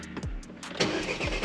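An Audi A3 8P car engine cranks and catches, turning over with a low rumble that settles into a steady idle, close by.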